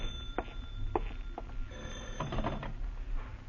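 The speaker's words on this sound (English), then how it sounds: "then the phone startles you, but you manage to answer" A telephone rings with brief jangling bell bursts in a quiet room, the rings spaced apart and fairly faint.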